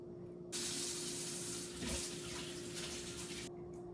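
Water runs steadily from a kitchen tap into a sink for about three seconds, close and fairly loud, starting and stopping abruptly over a low background hum.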